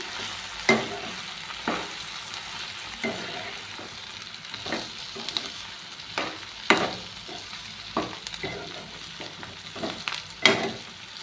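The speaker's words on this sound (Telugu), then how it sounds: "ఉప్పేసి తిప్పుతా ఉన్నా ఇలా తిప్పుకొని" Okra and tomato stew with salt and turmeric being stirred in a pan, a soft steady sizzle broken by a dozen irregular scraping strokes of the spoon, close and moderately loud.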